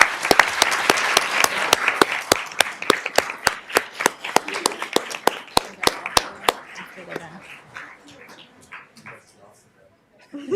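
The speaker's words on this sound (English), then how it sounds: "Please join me in giving her a round of applause." An audience at a school district event breaks into loud, dense applause that holds steady for several seconds, then thins to scattered claps and fades out.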